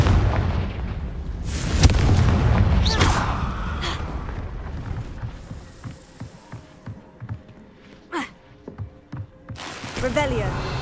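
A Confringo fire-blast spell in Hogwarts Legacy lands with a heavy boom and crackling burst early on, followed by scattered thuds and softer magical whooshes amid other game effects.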